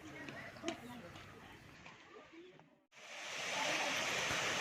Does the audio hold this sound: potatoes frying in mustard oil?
no